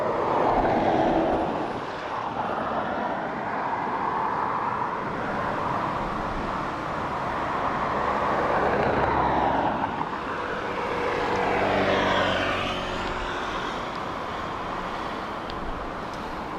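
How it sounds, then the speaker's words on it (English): A Ryanair jet arrives at Dublin Airport on a blustery day, its engine roar swelling and ebbing at moderate distance against wind and distant road traffic. "Just waiting on our Ryanair to come in from Nottingham."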